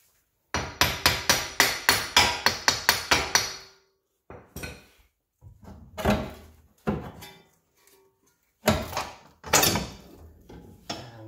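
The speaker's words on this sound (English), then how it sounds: "So now all you have to do is hammer this inwards." Hammer blows driving an axle seal into a D16A6 L3 transmission case: a rapid run of about a dozen sharp metallic strikes, then a few scattered heavier knocks after a pause, close and loud.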